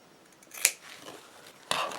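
Scissors cutting the corners of a sewn fabric face mask, two quick, crisp, close snips about a second apart in an otherwise quiet room.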